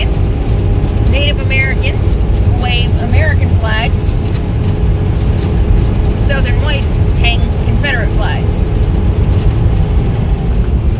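A car driving through Standing Rock: a steady, loud interior road rumble and engine drone runs throughout, with a person talking over it.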